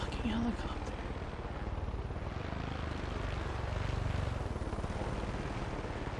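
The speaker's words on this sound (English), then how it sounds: "wait, it's my fucking helicopter." A helicopter in the video game Far Cry 5 gives a steady, fast rotor thumping with a continuous engine whine, loud and close for several seconds.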